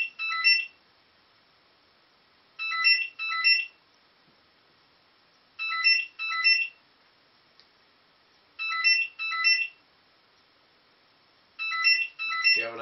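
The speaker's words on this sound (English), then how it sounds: "I'm just going to wait for the phone call to stop." A telephone rings in paired electronic trills, five double bursts spaced by long silent gaps, moderately loud and on its own, with a brief low voice at the very end.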